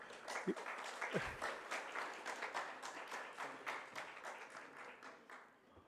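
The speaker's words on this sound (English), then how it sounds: "So ladies and gentlemen, please applause." An audience claps steadily for several seconds, the dense applause slowly thinning out toward the end.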